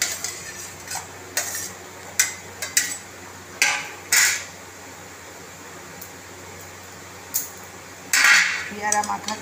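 Chopped guava mixed by hand on a plate, a series of sharp clinking and scraping knocks in uneven bursts, close and fairly loud over a quiet background.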